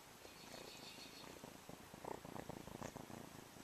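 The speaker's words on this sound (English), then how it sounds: "he's purring" A feral kitten purrs steadily close by in a cage, a soft continuous rumbling that swells slightly louder toward the end, with no talking over it.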